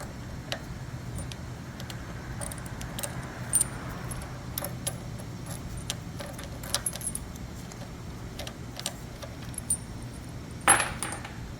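Loosened screws come out of the pump manifold of a pressure washer with light metallic clinks and small rattles, scattered and close, over a low steady background hum.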